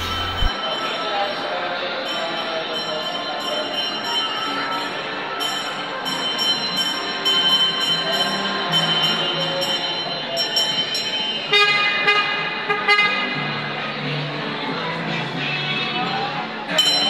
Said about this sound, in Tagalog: So abangan natin dito ang pagdaan ng train